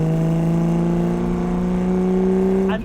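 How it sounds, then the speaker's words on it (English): A 1960 Ferrari 250 GT SWB with its 12-cylinder engine sings at steady high revs, a smooth loud tonal wail held for a few seconds before a brief shift at the end. "There's something about a 12-cylinder Ferrari singing."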